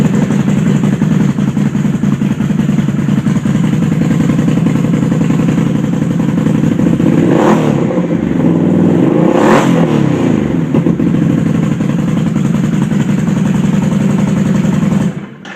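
A Can-Am XMR 650 ATV fitted with an HMF pipe and K&N filter runs close and loud, its engine churning steadily with two sharp throttle blips that rise and fall, cutting off abruptly at the end.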